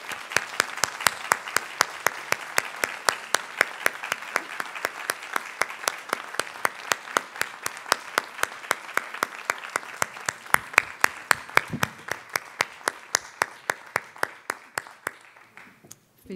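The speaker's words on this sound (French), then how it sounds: "Donc, je vous invite à les applaudir chaleureusement." An audience at a judicial ceremony warmly applauds lawyers honored for fifty years at the bar, with clapping that falls into a steady rhythmic unison beat and gradually thins out near the end.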